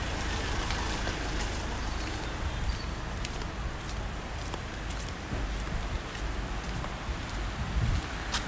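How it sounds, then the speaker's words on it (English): Heavy rain pours down in Bocas del Toro, Panama, a dense, steady hiss with scattered close drops pattering on surfaces, fairly soft overall and continuous with no talking. "Started to rain really hard."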